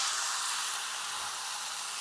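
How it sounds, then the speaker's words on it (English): Ribeye and filet steaks searing in a hot pan give a steady, even sizzle with a bright hiss, continuous and unbroken for about two seconds with no talking. "I'm just going to put some steak sizzling sounds in here"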